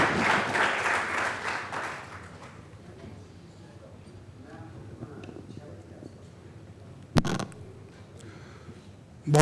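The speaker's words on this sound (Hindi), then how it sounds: "एक बार जोरदार तालियों से दिनकर जी का स्वागत" An audience at Constitution Club gives loud applause to welcome speaker Dinkar ji; it fades out over about two seconds into a quiet room with murmuring and a couple of sharp thumps.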